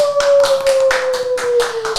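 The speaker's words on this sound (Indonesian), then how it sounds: "Yeay, tepuk tangannya dong semuanya." A few people clapping together on a campus radio podcast, a close, brisk run of hand claps at an even rhythm, with a faint steady tone running underneath.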